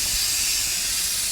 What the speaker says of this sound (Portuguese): Vou tirar essa pressão.